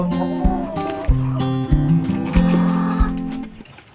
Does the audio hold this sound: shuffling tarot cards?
no